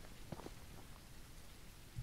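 Soft, even patter of rain at low level in the video game Ranch Simulator, a continuous hiss with scattered drop-like ticks and no talking.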